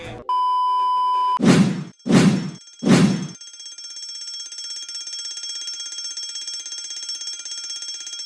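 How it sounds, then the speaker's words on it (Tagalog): A short steady beep, then three loud clanging strikes, followed by a continuous high-pitched electronic alarm tone ringing on without pause. "ano ba yung alarmang naririnig natin?"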